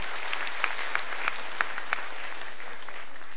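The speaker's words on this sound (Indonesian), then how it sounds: "Tepuk tangan dulu Hotel Papandayan" A stand-up comedy audience in a Bandung hotel ballroom applauds Hotel Papandayan, a steady wash of clapping with a few sharper individual claps standing out above the crowd.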